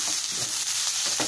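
Capsicum frying in hot oil in a pan for veg noodles gives off a loud, dense, continuous sizzle with faint stirring taps underneath, close and steady throughout the brief moment.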